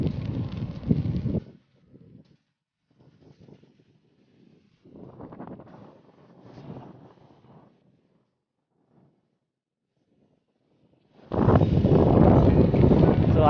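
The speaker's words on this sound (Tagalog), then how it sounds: "So ayan, medyo mahangin." Bursts of wind buffeting a microphone while riding a bicycle, loud gusts at the start and again near the end with quieter, patchy rustling in between.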